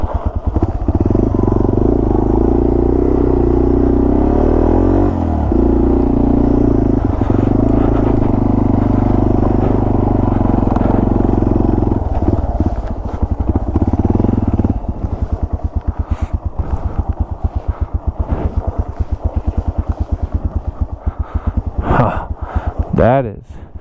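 Yamaha TW200 motorcycle rumbling slowly along a wooded trail in Woodland Park, a loud close engine with throttle changes, clattering over rough ground and wind buffeting.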